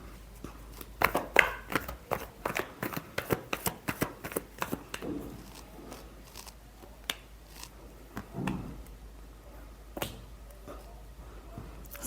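Tarot cards are shuffled in a quick run of crisp riffling flicks and slaps, loud early and thinning out later into scattered separate snaps, with no voices.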